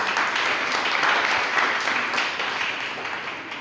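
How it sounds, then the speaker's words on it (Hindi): An audience at a church meeting in Panvel applauds, a dense, steady roar of many hands clapping together that holds at the same level and then eases off slightly toward the end. "एक बार मुझे भी तालियां बजाइए।"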